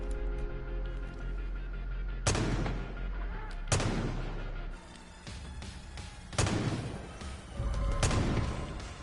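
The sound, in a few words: sniper rifle gunshot in the video game Far Cry 5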